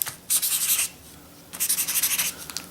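Felt tip of a freshly refilled Molotow One4All paint marker scratching across a surface in two quick bursts of rubbing strokes, close up and fairly quiet, with a short pause between them and no talking.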